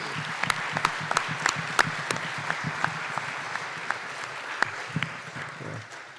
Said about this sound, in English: let's give a round of applause to all the teachers and educators